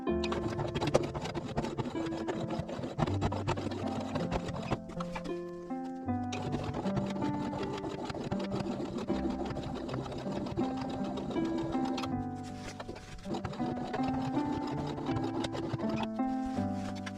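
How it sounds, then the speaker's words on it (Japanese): A sewing machine runs steady edge stitches along fabric on stretch material, with a continuous mechanical whir and needle rhythm broken by short pauses near the start of each pass. "ここずっと端ミシンかけます。"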